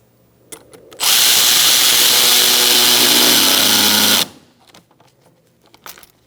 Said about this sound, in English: now we're going to tighten up our hose clamp.